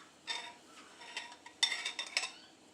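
A small kid's spoon scrapes and taps against a dish while spreading a layer of canned food, giving a handful of soft, close clinks and scrapes in short bursts, with no talking.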